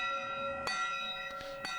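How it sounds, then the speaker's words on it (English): A church bell rings out with sustained, shimmering overtones, struck about three times at uneven intervals, each strike swelling over a steady lingering hum with no voices. "Dimitri is saved by the sound of a bell that rings out."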